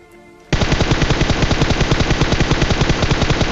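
Automatic gunfire in a mobile shooter game erupts after a quiet half second into a loud, sustained rapid burst of evenly spaced shots lasting about three seconds.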